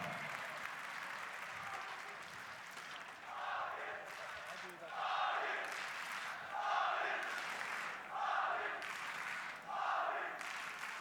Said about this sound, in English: Portions of the crowd finding their voice now as the rest goes silent in anticipation as to what's to come.